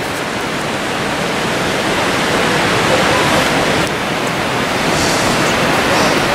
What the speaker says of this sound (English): Normally this is an absolutely huge waterfall coming down here